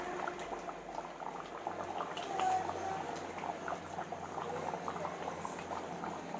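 Hot water bubbles at a steady rolling boil in a pot while mutton leg curry is being made, producing a continuous close gurgling and popping.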